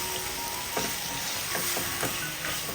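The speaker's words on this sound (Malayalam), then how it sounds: "ഒരു 2 മിനിറ്റ് ഫ്ലെയിം കുറച്ച് വെച്ചിട്ട് ഇതുപോലെ ഒന്ന് ഇളക്കി യോജിപ്പിച്ച് എടുത്തിട്ടുണ്ട്" Dates stirred into ghee in a pan over a low flame, a steady soft sizzle broken by a few light scraping stirs, close and continuous with no talking.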